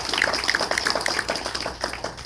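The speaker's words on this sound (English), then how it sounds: "please give him a warm applause" An audience claps to welcome Minister of Education Stephen Lecce at a groundbreaking for Georgian Bay Community School in Meaford. The applause is a steady, moderate patter of many hands with no talking over it.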